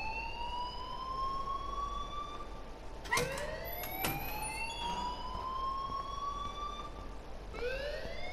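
An alarm wails in a video game, a rising and falling siren-like tone sweeping repeatedly at moderate distance, with a few sharp clicks partway through and no talking.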